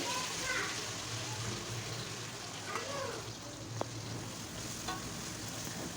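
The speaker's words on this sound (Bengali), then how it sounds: "ভালো করে নেড়েচেড়ে কিছুক্ষণ ভেজে নেব" Chopped onions fry in hot oil in a pot for a beef and potato curry, giving a steady, moderately loud sizzling hiss that runs the whole time, with a faint clink of stirring partway through.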